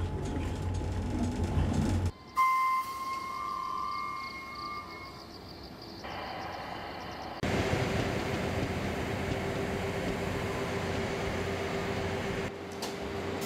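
A train rolls along the single-track Janghang railway line, a steady broadband rumble with sustained tonal hums and shifting segments, fairly close and continuous with no talking.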